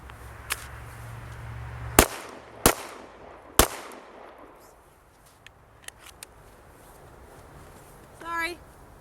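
Sharp gunshots from a Glock 19 Gen 4 pistol fired at targets outdoors: three loud cracks in quick succession, then fainter distant shots, with a brief voice near the end.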